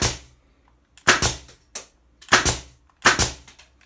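A Makute pneumatic nail gun fires into metal in sharp, loud cracks, single and in quick pairs, with short metallic rattles trailing each shot and near silence between them.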